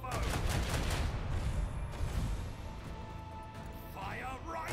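Ship cannon salvo in the Warhammer 40K Rogue Trader video game: a loud, dense fusillade of heavy booming shots rolling through the first couple of seconds, then a sustained battle rumble with voices beneath.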